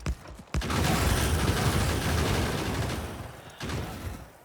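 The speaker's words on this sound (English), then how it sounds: "Oh, okay, gun turrets." Gun turrets in the video game Factorio fire a dense, continuous burst of rapid automatic gunfire, loud and close, broken by a short pause before a second burst, with no talking.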